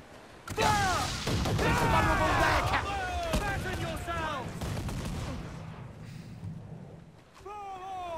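Heavy-shot cannons fire from a sailing warship in Assassin's Creed Black Flag during a naval battle. Several loud, booming blasts come in quick succession and then fade, while voices shout over the barrage.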